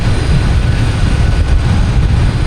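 A Delta Airbus A321neo jet roars during takeoff at Boston Logan airport, a loud, steady, broad engine rumble at close range.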